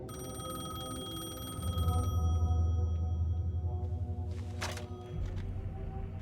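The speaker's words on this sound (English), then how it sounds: "The payphone was ringing." A payphone in the video game Alan Wake 2 rings in a steady electronic trill, a few bursts of ringing over a low ambient hum with a brief louder rustle partway through.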